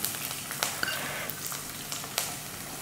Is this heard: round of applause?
no